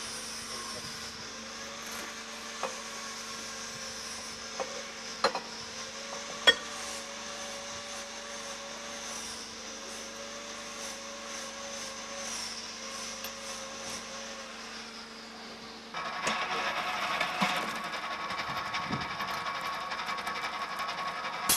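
A Czech BOBR cable stripping machine cutting tangled electric cable with its cutting-wheel edges, a steady mechanical whine and hum with occasional clicks, turning into a louder, harsher grinding rasp near the end.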